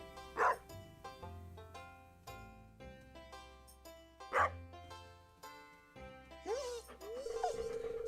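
A small puppy in a video game gives a few sharp yips and barks over light background music, with a short whimpering cry near the end.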